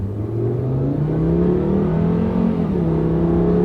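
A car engine revs up steadily with a brief dip in pitch as an automatic gear shift changes smoothly, loud and continuous from inside the vehicle.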